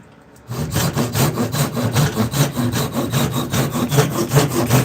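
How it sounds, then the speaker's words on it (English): Handsaw cutting the ends off a maple wood piece, steady rhythmic back-and-forth strokes starting after a brief quiet moment, close and loud, with no talking. "I'm gonna start cutting these ends off"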